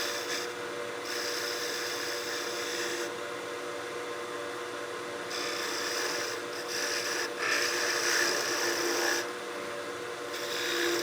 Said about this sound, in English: just start using that spindle gouge to roll that